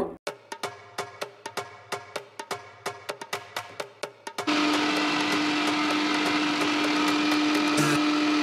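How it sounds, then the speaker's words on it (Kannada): A mixer grinder starts with a rapid series of short pulsed bursts, then runs continuously with a loud, steady whirring drone, grinding a cooled mixture into fine hair-care powder. "ಮಿಕ್ಸಿ ಜಾರಿ ಹಾಕಿ ಪೌಡ್ರ್ ಮಾಡ್ಕೋಬೇಕು"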